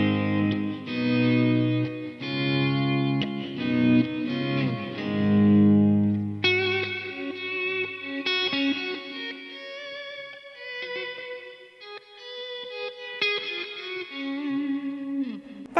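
A Big Top guitar effects pedal plays sustained electric guitar chords through a ducking effect, its swelling, pumping volume audible throughout with no talk over it.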